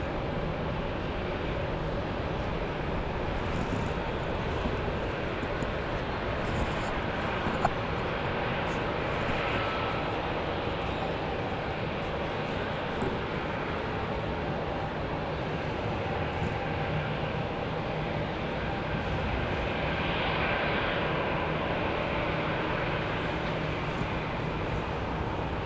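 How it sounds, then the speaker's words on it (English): Airplanes departing Raleigh-Durham International Airport in the rain make a continuous distant jet roar, broad and steady for the whole stretch, with rain hiss layered underneath and no talking. "Hear them departing."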